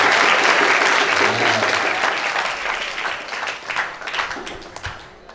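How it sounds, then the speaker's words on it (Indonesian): Audience at a Ramadan pesantren session bursts into loud, dense applause that holds steady, then loosens into scattered claps and murmuring voices as it fades near the end. "Tepuk tangan untuk setia silakan kembali."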